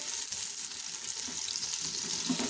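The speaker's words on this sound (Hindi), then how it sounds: "इसमें मैंने प्याज को ब्राउन करने के लिए रख दिया है" Onions browning in about a cup of hot oil for bhindi gosht, giving a steady, dense sizzle that stays even and close throughout with no talking.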